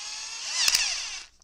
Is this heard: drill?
yes